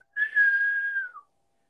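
Someone whistles one sustained, slightly wavering note for about a second, clear and close, ending with a short dip in pitch, with silence before and after.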